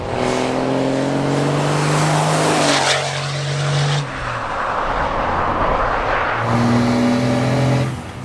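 A Cummins turbo diesel engine in a Ram pickup revs hard in rising sweeps, dips briefly, then roars up again, heard from inside with the windows shut and no talking.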